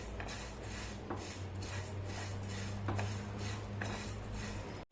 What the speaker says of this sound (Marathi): मसाले भाजण्यासाठी पॅन मी गॅसवरती ठेवलेला आहे धने घालूया छान सुगंध सुटेपर्यंत मध्यम गॅसवरती आपल्याला चांगले धने भाजून घ्यायचे